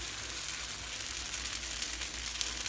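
A plain paratha with no filling sizzles steadily on a hot pan, a soft continuous hiss of frying with faint crackles, close and even throughout, with no talking.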